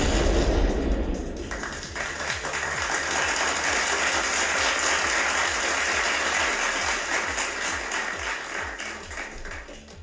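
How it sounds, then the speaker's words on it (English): Hands clap in a quick, steady rhythm for about ten seconds during a hackathon livestream, the repeated beats sitting over a dense wash of background noise. "Let me clap it up for you"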